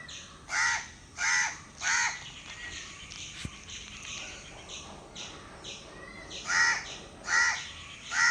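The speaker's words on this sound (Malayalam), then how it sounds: "കാക്ക കരയുന്നു കാക്ക" A crow caws repeatedly in short, evenly spaced bursts, fairly close, with a pause midway before several more harsh caws.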